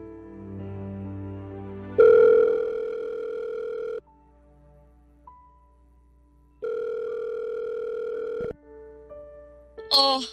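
A telephone dial tone, steady and clear, sounds in two long stretches separated by a quiet gap as a call is placed in a Tagalog radio drama, ending with brief beeps.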